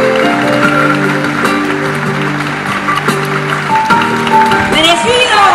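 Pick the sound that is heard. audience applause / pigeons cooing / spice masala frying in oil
audience applause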